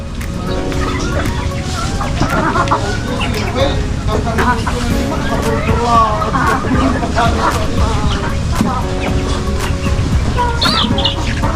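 Five newly bought young pullets clucking close by, frequent overlapping clucks and chirps in a steady stream, with a person talking over them.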